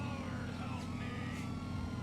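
Police sirens wail steadily in Grand Theft Auto V during a road race, over a constant low engine rumble, with a sweeping tone rising and falling.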